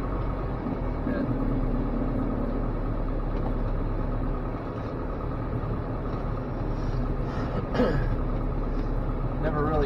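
A 1987 Dodge Raider with an old Fisher plow idles after a cold start in a blizzard, a steady low engine drone that holds evenly throughout with faint talk underneath.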